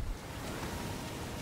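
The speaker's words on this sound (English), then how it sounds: "Behind this waterfall." Rushing waterfall in the Darksiders video game, a steady broadband roar of falling water holding even and fairly loud throughout, with no voices.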